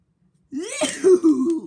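A single sneeze bursts out after a brief silence, a sharp inhaled buildup followed by an explosive, throaty release trailing into a short voiced tail.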